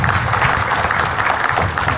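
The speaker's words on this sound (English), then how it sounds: "Can we clap for ourselves?" A seminar audience of accountants applauds themselves on the fourth day of the event, a full steady patter of many hands clapping for about two seconds with no voices on top.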